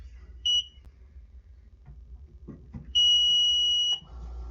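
Power failure alarm on an Invacare oxygen concentrator: a short electronic beep, then after a pause a longer, sustained loud tone of about a second, with low background hum and faint handling noise between.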